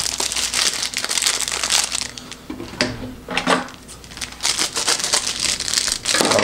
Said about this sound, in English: take it out of the packaging